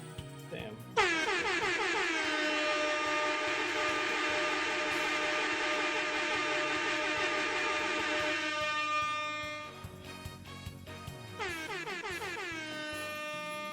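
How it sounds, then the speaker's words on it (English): A loud, blaring air horn from a soundboard button holds for several seconds, cuts off, then sounds again briefly near the end, with some talk underneath. "I just wanted to slam the air horn button"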